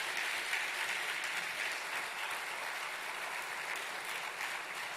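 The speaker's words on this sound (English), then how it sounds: "Can we clap for the President as he's taking leave?" An audience at an education gathering applauds President Cyril Ramaphosa as he leaves, a dense, even wash of clapping that holds steady throughout with no voices over it.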